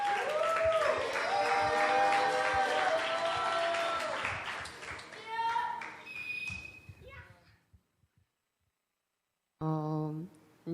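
An audience claps to welcome a student onto the stage at a children's church prayer gathering, with young voices mixed into the sustained applause. It fades out to near silence around eight seconds, then a short burst of sound returns.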